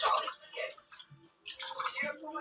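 Water splashing and running while soap is rinsed off during washing, soft intermittent splashes and trickles close by, mixed with faint sounds of people nearby.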